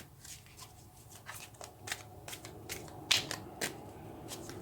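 Tarot cards shuffled and drawn from a deck, a quiet run of papery riffles and soft slaps at an uneven pace, close by, with no talking.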